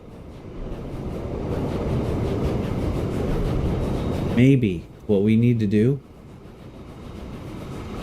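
A train runs in the railway-building game Transport Fever 2, giving a steady mechanical rumble throughout while a person speaks briefly over it partway through.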